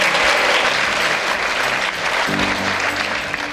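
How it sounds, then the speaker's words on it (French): Loud, sustained applause from the audience at the closing ceremony of the 5th La Roche-sur-Yon International Film Festival, thick and even, tapering slightly toward the end as a low tone rises underneath. "Je vous demande aussi de les applaudir."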